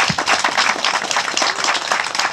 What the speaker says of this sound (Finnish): Kiitoksia ja nyt aplodit Peltsille.